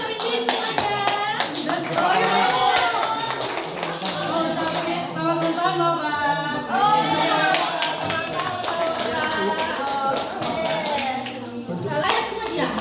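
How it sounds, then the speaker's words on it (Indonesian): Children clapping together for a classmate at a birthday gathering, brisk rhythmic claps mixed with excited kids' voices and chatter, fairly loud and close throughout. "Oke, tepuk tangan untuk Indi semuanya."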